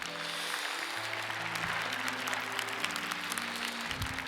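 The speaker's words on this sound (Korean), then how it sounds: "우리 하나님께 영광의 박수 올리겠습니다." A church congregation applauds in praise during a 2021 Sarang Church new-life festival sermon, with steady clapping throughout and a sustained organ or keyboard chord tone underneath.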